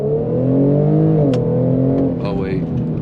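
A car with a VR30 engine and a swapped transmission hums loudly at steady revs, then pitch drops and rises again through a paddle-shifter gear change, heard from inside the cabin with someone talking over it.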